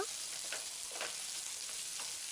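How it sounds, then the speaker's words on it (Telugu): Bell pepper (capsicum) pieces fry in a pan for restaurant-style chilli chicken, a soft steady sizzle broken by a few quiet stirring scrapes, with no one talking. "బెల్ పెప్పర్ అంటే క్యాప్సికమ్ ముక్కలను కూడా వేసుకుని ఫ్రై చేసుకోవాలి"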